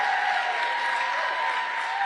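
Sustained applause and cheering from a large rally crowd in Raleigh, North Carolina, a steady wash of clapping that fills the hall at an even level.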